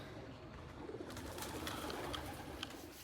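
Pigeons coo softly inside a breeding loft, low repeated calls mixed with faint rustles and light clicks against a quiet indoor background, with no speech.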